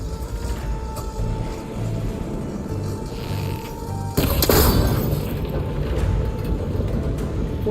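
A cable connector in Horizon Forbidden West is shot and breaks apart in one sudden loud burst about halfway through, followed by rumbling, rattling debris and mechanical noise. Before it comes a quieter stretch of steady ambience.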